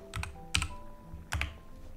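Clicky mechanical computer keyboard typed in short bursts of sharp keystrokes, close and fairly loud over a faint steady hum, with no talking.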